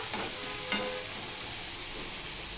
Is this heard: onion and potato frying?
yes